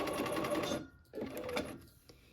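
A sewing machine stitches a seam toward its end, running in a steady buzzing burst that stops, then resumes in a shorter run and fades to a few slow final stitches.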